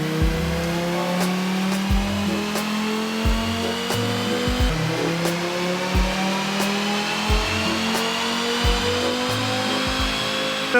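A car with a 2.5 engine and stainless exhaust pulls on a dyno, its engine note rising steadily over about ten seconds with a rhythmic low thumping from the rollers, loud and close.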